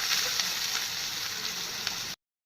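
Potatoes and beans frying in hot oil in a wok, a loud, close, steady sizzle with a few crackles that cuts off abruptly.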